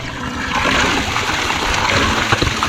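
Water from a mountain spring in the Chitral meadows, high in the mountains, is collected as it splashes and gushes steadily up close, filling the clip.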